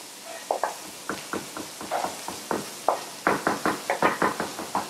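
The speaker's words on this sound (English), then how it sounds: "we're going to chop some fresh cilantro" A knife chops fresh cilantro and mint on a cutting board with about twenty crisp, close knocks in an uneven but quick rhythm, speeding up toward the end.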